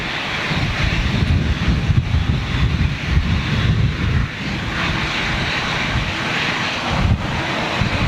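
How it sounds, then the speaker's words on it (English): An airliner at Manchester Airport roars at full power during takeoff, its engine blast loud and continuous with a broad rumbling wash and gusts of wind noise. "Just look at the blast off of those engines"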